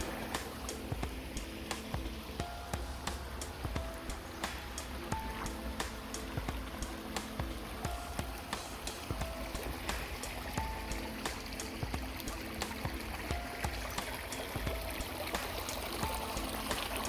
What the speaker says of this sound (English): I don't know where that water's coming from.